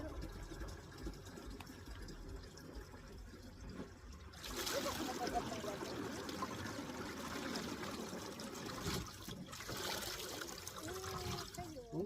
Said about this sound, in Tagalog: Bumubulwak yung tubig mga idol.